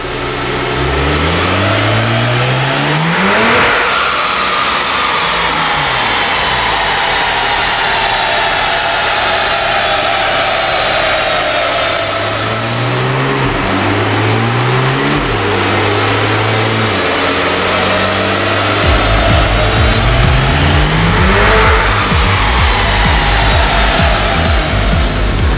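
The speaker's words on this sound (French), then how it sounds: "On peut passer la voiture au banc en 2 roues motrices." A Porsche 911 Turbo S with a Stage 2 tune runs on a chassis dyno in two-wheel drive with ABS disabled, its engine loud and close, revving up in repeated rising sweeps over a continuous roar.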